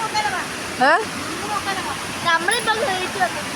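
A waterfall swollen with flooding mountain water gives off a steady, broadband rushing roar throughout, with voices talking over it.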